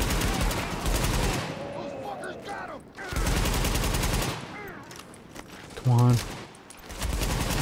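Video game gunfire from The Division in Kips Bay. Loud, dense automatic bursts come in three separate long volleys with quieter gaps between them, and someone speaks briefly in between.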